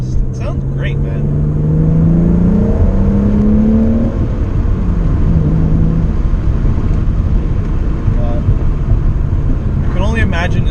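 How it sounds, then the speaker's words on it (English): A BMW E39 528i, a rear-wheel-drive sedan, revs its engine through the exhaust with a rising, fairly loud pull that settles into a steady drone, and voices are heard along with it. "Just wanted to hear that exhaust. It sounds great, man."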